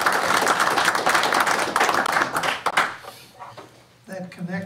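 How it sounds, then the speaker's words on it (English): Clapping from a small group at a town council meeting, a brief scattered round that fades out after a few seconds and gives way to a voice. "I'm gonna offer a round of applause"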